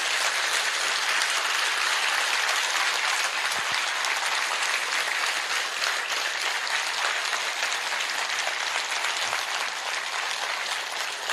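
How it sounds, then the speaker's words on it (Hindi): Sustained, loud applause from an audience at a talk on Ayurveda and the five elements, a dense wash of clapping that holds steady for the whole stretch with no voices rising above it. "एक बार जोरदार थोड़ी सी लंबी तालियां बजाइए, जोरदार"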